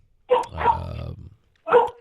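A dog barks close by in a quiet room, with a deep bark and a drawn-out growling bark, then a short pause and one more sharp bark.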